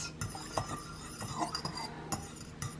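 A fork clinks and scrapes against a dish while stirring melting butter for Halloween sprinkle cookies, with light, irregular taps and metallic chinks close by and no speech.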